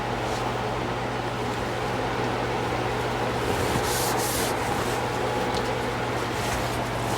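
A wooden bowl spins on a lathe while shellac finish is rubbed on, producing a steady, even friction hiss over a constant low motor hum, with no pauses.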